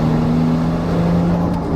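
Nissan 240SX engine with manual gearbox shifting into fifth: a steady, loud engine drone with a sustained low hum that holds evenly throughout, without a clear rev spike.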